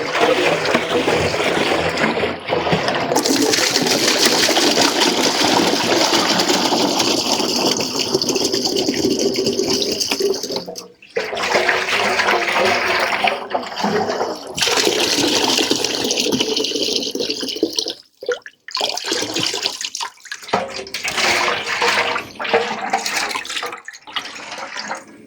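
Dirty vinegar draining out of a Moto Morini 3 1/2 Sport motorcycle fuel tank, a loud steady gushing pour that runs for long stretches with brief pauses and sputters.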